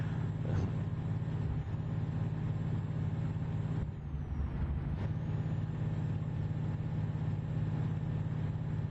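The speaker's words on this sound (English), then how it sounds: "Seems like the truck's a little bit louder." A truck engine drones steadily while driving in the Euro Truck Simulator 2 video game, a constant low rumble that holds nearly unchanged throughout with a slight dip in the middle, with no voices.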